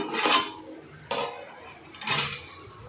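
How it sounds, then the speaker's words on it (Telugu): Three short metallic clatters of a lid on a pot of prawn biryani, spaced about a second apart, close by. "మూత తీసి ఒకసారి చూసుకుందాం"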